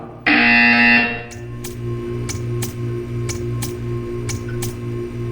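A loud, harsh electronic buzzer from the video game Portal 2 blares for about a second, then a steady ticking continues over a low hum.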